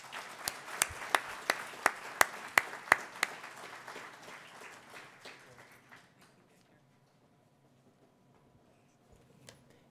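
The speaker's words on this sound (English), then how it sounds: "warm round of applause." An audience at a culinary conference applauds to welcome a speaker: loud, distinct individual claps over a clapping crowd that thins and dies away after about six seconds, leaving near silence.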